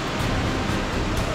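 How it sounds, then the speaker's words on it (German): Floodwater rushes at a waterfall on the Schwarzbach stream at high water, a dense and steady roar that fills the whole moment, with no voices. "Wir sind jetzt direkt vorm Wasserfall"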